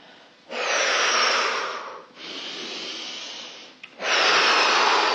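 Slow, deep breaths during a guided movement session: a long inhale, a softer exhale, then another strong breath, close and alone.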